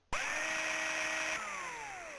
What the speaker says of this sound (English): So the drill is turned on